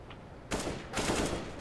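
Bursts of AK rifle fire in Counter-Strike: Global Offensive, two short, sharp volleys in quick succession after a brief quiet moment.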